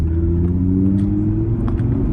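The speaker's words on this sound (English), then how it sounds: "it does sound like a V10, a baby V10" An Audi TT RS five-cylinder engine hums steadily at a constant low rumble heard from inside the car, loud and continuous with no clear rise in revs.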